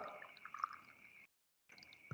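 Water poured into a small container as the control liquid for a tooth decay experiment, a quiet liquid trickle with dripping that stops briefly and then resumes.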